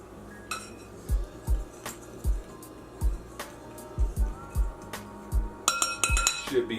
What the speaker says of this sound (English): what we want to do is whisk all of this up.